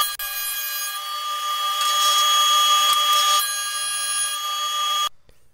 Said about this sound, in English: then unclamp them and send it through the planer